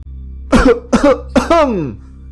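Three harsh, throaty coughs in a row, close and loud, the last one dragging into a strained rasp over a low steady hum.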